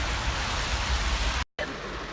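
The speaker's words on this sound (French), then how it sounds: "comme il pleut" Steady heavy rain falls outdoors as a dense, even hiss, with a brief dropout near the end before the downpour continues.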